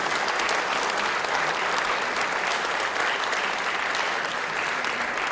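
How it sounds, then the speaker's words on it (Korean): A church congregation applauds during a pastor's installation service, steady dense clapping that fills the hall at an even, loud level throughout with no talk over it. "여러분 큰 박수 보내주시기 바랍니다."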